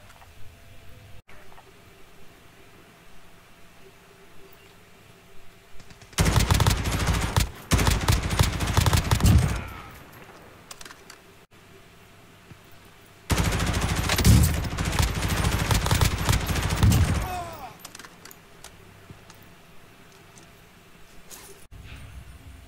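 Light machine gun fire in Call of Duty Warzone, two long sustained bursts of loud automatic shots, each about three to four seconds, separated by a quieter stretch of game ambience, with no voices.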